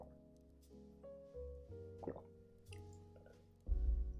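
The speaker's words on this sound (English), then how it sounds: "I'll take another drink. This time it's just water." Plain water is sipped close to the microphone, giving a few soft wet plops and gulps spaced apart over a quiet musical background, with a heavier swallow near the end.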